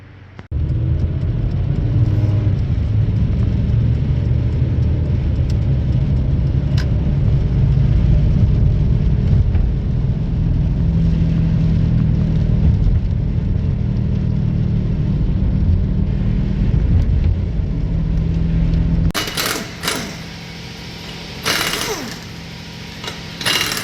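A worn front wheel bearing on a 2005 Honda Civic Coupe, the jacked-up wheel spinning with a loud steady grinding rumble for about nineteen seconds, then a sudden shift to sharper clanking and mechanical noise.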